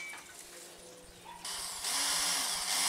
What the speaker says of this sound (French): pré-percer le bois du portillon afin d'y visser 2 vis de penture pour la maintenir en place